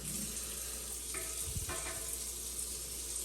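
Teriyaki sauce poured over salmon and vegetables frying in a pan gives a faint, continuous hissing sizzle with a brief soft clatter partway through.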